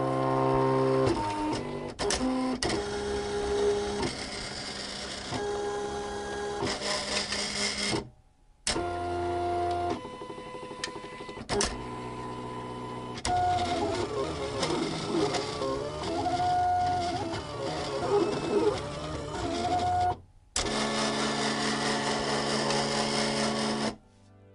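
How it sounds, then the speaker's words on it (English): A Silhouette Cameo 3 cutting machine slices through Shrinky Dink plastic sheet. Its motors whir and buzz steadily and loudly in several long passes, with brief pauses and a few clicks between them and no talking. "So is the Silhouette Cameo 3 any quieter?"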